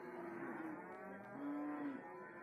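Cattle at a livestock market, with Simmental, Limousin and Javanese breeds on sale, give a long low moo and then a second drawn-out moo, both heard clearly at moderate distance over a faint background hum.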